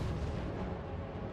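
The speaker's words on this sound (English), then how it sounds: "Flame cannon!" A flame cannon fires in the Total War: Warhammer strategy game, a short heavy booming blast with dense rumbling low end that lasts just over a second, loud and alone.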